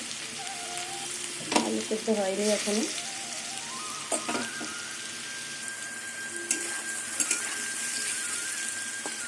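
Papaya and potato pieces fry in a pan with a steady, even sizzle and hiss throughout, with a few scrapes and clinks from stirring and brief talk near the start.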